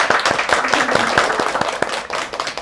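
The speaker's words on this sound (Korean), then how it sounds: "박수 한번 주세요." Audience at a book talk on colour and personal branding claps with scattered, distinct hand claps at a moderate, steady level, backed by room murmur and some faint talk.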